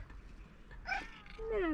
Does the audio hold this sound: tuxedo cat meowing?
yes